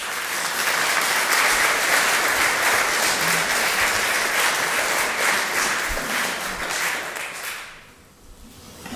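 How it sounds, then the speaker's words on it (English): Congregation applause for Edward, who led the music at a combined summer church service, sustained dense clapping for about eight seconds before fading out. "shall we give Edward a round of applause?"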